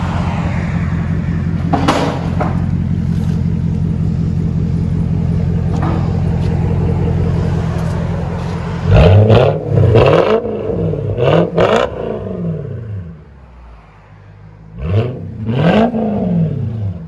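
A Japanese V8 car engine idles with a deep burbling rumble, then revs hard several times in sharp, rising bursts, loud and close.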